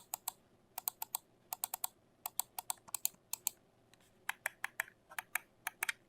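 Crisp clicks from an HP M120 wireless mouse's buttons, quiet and close, coming in quick irregular bursts of two to four with short pauses between.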